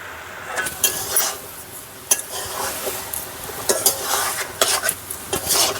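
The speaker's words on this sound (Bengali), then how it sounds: "এবার দিয়ে দেবো চিংড়ি মাছ ভাজা।" Fried prawns being stirred into tender banana stem in a pan with cooked spice paste, giving a steady scraping stir with soft sizzling and occasional clinks of a utensil against the pan, close and without talk.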